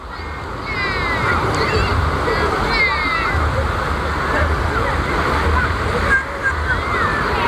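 Sea waves washing ashore at Seranit Beach in Banyuwangi, a steady broad roar of surf close by, with faint voices now and then over the water.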